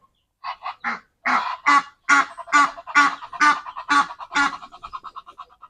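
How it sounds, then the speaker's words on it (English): Egyptian geese give a run of about a dozen loud, harsh honking calls in quick succession, then a softer trail of quieter calls. "These are Egyptian geese."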